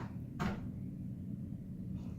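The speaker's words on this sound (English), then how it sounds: "could you close the door all the way for me" A room door being pushed shut: one soft, muffled thud early on, then quiet room tone, with no talking.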